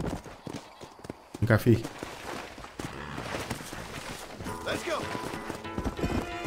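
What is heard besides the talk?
horse hooves in video game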